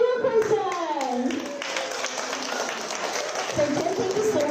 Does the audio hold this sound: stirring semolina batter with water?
no